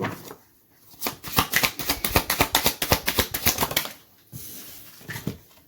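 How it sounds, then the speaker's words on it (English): Tarot cards spill and flutter out of a deck, a rapid run of crisp papery flicks lasting a few seconds, close and alone, trailing off into a few final slaps. "Sorry, too many cards fell out then"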